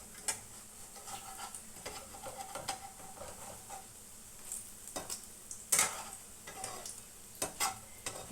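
Gram flour drops frying for doi fulki, with a steady close sizzle over a run of spatula scrapes and clinks against the pan, plus a few louder metallic knocks.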